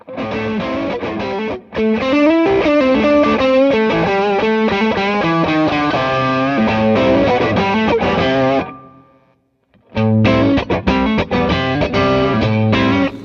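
Heavily overdriven electric guitar, driven by two Tube Screamer pedals, playing a dense riff, loud and sustained, breaking off briefly near the end before crashing back in.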